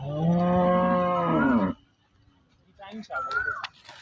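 Cows at a busy cattle market selling HF and Jersey dairy cattle let out one long, loud, close moo, followed by a moment of quiet and then scattered market voices and noise.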